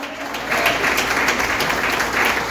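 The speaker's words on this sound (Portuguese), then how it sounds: "pode aplaudir a terra" A church congregation applauding during a family worship service: a short burst of many hands clapping, moderately loud and swelling after a brief quieter start, with no talk over it.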